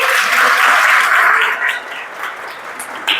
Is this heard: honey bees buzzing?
no